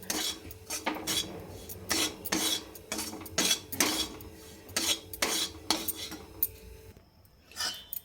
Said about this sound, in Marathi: गरम कढईमध्येच हे छान भाजलं जातं